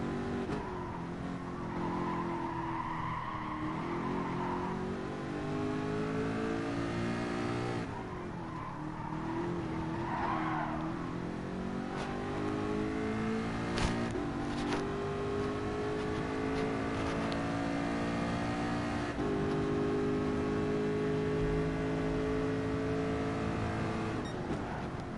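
Ford GT race cars in Gran Turismo lapping Monza, engines droning and shifting pitch steadily with rising and falling revs, tire squeal and skidding mixed in, loud and continuous throughout.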